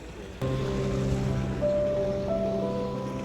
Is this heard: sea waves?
yes